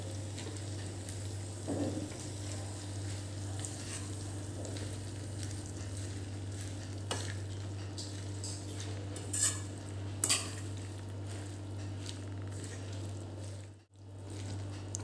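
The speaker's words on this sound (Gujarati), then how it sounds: "હવે બધું સારી રીતે મિક્સ કરી લેવાનું છે." Potato and spinach sabji stirred in a pan, a steady low sizzle with scattered utensil scrapes and clinks against the pan, close and quiet, no voices.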